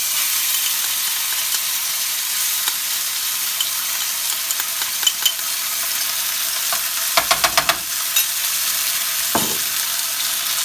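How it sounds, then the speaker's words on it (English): Ginger garlic paste sizzles in a pan of browned frying onions for chicken tikka masala, giving a steady close hiss broken by a few sharp clacks of stirring, with no talking. "So that's sizzling quite a bit"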